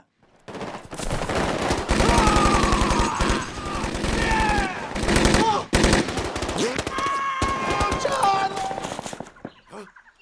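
Machine gun bursts in a film battle scene between troops and rebels, loud rapid gunfire under dramatic music and explosive effects, continuing almost throughout with brief pauses.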